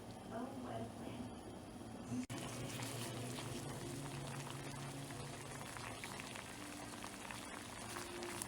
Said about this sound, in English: I am going to put a pot on the stove with some water and let that boil